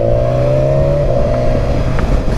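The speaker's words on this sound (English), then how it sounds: "It's got a nice sound to it. I don't know if the exhaust on this has changed" A loud BMW S1000 XR motorcycle engine drones steadily close by, a low throaty exhaust note holding a fairly even pitch with slight rises.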